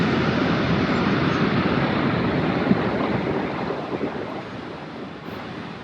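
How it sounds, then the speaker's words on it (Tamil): Niagara Falls roars from the Canadian side as a steady, dense wash of falling water that stays loud and unbroken throughout, with no voices. "இப்போ நாங்கள் கனடா சைடில் நயகரா ஃபால்ஸ் வந்து பார்த்துட்ருக்கோம்"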